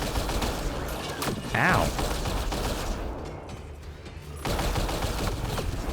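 Steady rapid turret gunfire in Mass Effect: Andromeda, dense and continuous throughout with a brief pause, while a voice briefly cries out in pain.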